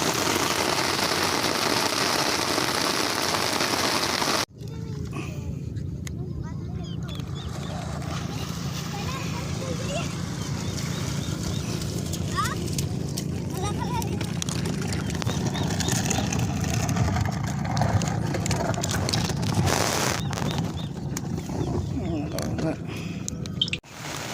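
Heavy rain pours down during an afternoon fishing trip, a dense, continuous hiss that stays loud from start to finish, with a sudden shift in sound early on and voices underneath.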